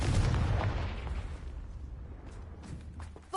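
A spell explosion from the Hogwarts Legacy video game erupts as a loud, booming burst, then decays into a rumbling tail with faint crackles.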